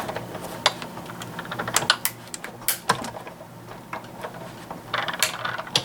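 A hand-cranked die-cutting machine rolls a sandwich of plates, die and paper through, giving a series of sharp mechanical clicks and ratcheting taps over several seconds, close by and moderately loud, with no talking.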